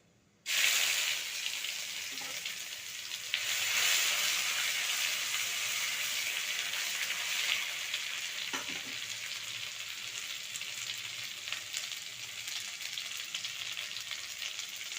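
Whole garam masala and ginger paste fry in a little oil in a wok, a loud, steady, bright hiss that bursts in suddenly and holds on with only slight swells, and nobody speaks.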